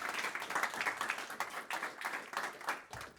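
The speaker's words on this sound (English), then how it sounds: "And have an applause" Audience clapping after a talk on defensive AI and natural language processing at a tech conference, a moderate, steady patter of many hands that swells and dips slightly across the few seconds, heard from within the room.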